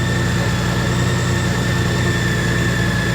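A Honda Goldwing motorcycle engine, just brought back to starting after a DCT no-start fault, idles steadily and close up, a constant low rumble with an even throb and no talk over it.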